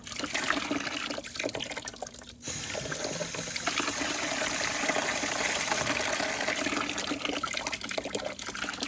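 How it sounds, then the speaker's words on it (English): Water rushes and splashes through the engine block of a 1998 Toyota Camry LE during a cooling system flush, a continuous steady flow briefly dipping before resuming, loud and close with no voices. "we have been flushing the block, and we're just waiting for clear water to come out of it"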